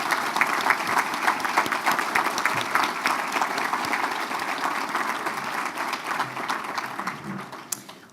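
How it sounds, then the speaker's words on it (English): Dense, sustained applause from an audience at an evening awards celebration as people stand to be honoured, steady clapping that holds for the full stretch and thins slightly at the end. "would you all please stand while we give you a round of applause for your efforts in making tonight possible"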